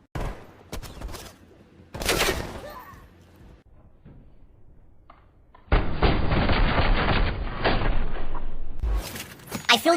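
Video game gunfire comes in bursts, with sharp cracking volleys early, a quieter stretch, then a long, loud, dense barrage of shots toward the end.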